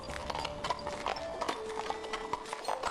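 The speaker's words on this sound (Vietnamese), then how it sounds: "còn mua thêm 2 con ngựa, một chiếc xe ngựa chở hàng rời khỏi thị trấn nhỏ" Two horses pull a cargo cart out of a small town, their hooves clip-clopping in a steady, brisk rhythm at close range over a faint hum.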